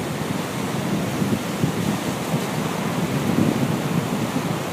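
Sea waves roll in on Galveston beach in a continuous close surf wash, heavy with wind noise on the microphone and with no voices.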